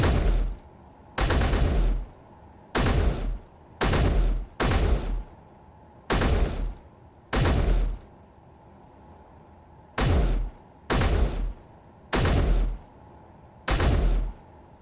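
Eleven separate bursts of gunfire from a hard-recoiling weapon in Space Engineers, each loud and roughly a second long, fired in an uneven rhythm with short quiet gaps between them and no talk over the shots.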